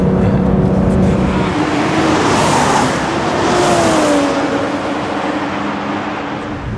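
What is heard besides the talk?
BMW 3 Series car driving a lap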